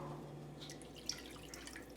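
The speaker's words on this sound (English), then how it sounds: "I like to pour it through my slotted spoon." Freshly dissolved cheese rennet pours through a slotted spoon into a pot of milk while making quick mozzarella, giving a faint, steady trickle with a few soft drips over a quiet background.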